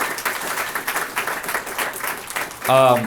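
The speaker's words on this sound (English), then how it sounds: "let's give Maria a round of applause here" An audience at a business talk applauds a professional soccer player, a steady round of clapping that ends as a voice cuts in loudly near the finish.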